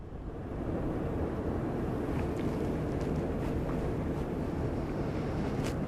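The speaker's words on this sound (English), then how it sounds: "let's think of another good one in this cold and windy weather." Steady, loud rushing wind in cold weather buffeting the microphone, a dense low roar that holds without pause throughout, with no voices.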